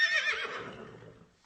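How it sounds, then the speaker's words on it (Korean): A horse lets out a loud, close, alarmed neigh as an audiobook sound effect for Animal Farm; the whinny trembles and fades out over about a second and a half, with no voices over it. "일을 끝낸 동물들이 축사로 돌아오는데 마당 쪽에서 크게 놀란 듯한 말 울음소리가"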